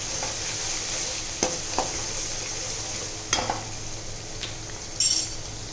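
Sizzling tempering for Kathiyawadi udad dal is stirred in a pan, a steady close frying hiss broken by several sharp scrapes and clinks of the spoon against metal; no talking.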